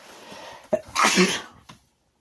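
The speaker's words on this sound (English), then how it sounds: "Once again, I gotta sneeze." A single loud, close sneeze with a sharp intake of breath before it, then quiet.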